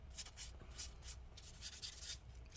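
A napkin rubs old thermal paste off the heatsink of a 15-inch Retina MacBook Pro A1398, making a faint, steady scratchy wiping sound in short repeated strokes.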